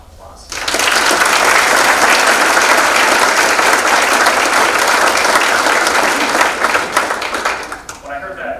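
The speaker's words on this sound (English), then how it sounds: "if we can give him a round of applause" Loud, sustained applause from an inauguration audience for a former college president fills the room, steady clapping for several seconds before tapering off, with a voice starting up at the end.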